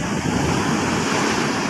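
Big monsoon waves surge and crash onto the shore in a steady, loud, dense roar of surf and water close by, with wind buffeting the microphone and no pauses throughout.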